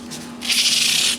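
Sandpaper rubs across the finish of a 1991 PRS Custom 24 guitar, a light scrape followed by one louder, close, steady sanding stroke lasting under a second.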